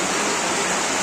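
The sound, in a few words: heavy rain pouring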